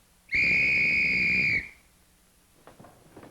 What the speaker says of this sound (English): some guy comes around blowing a whistle, and it's morning